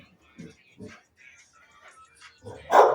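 A female dog indoors gives short whines and fussy yips in scattered bursts, with a louder bark-like outburst at the end, between brief stretches of quiet.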